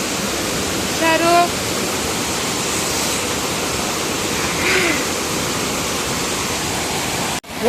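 A waterfall stream in the Chikmagalur hills near Mullayanagiri rushes in a constant, close broadband roar, while a voice briefly rises above the flow.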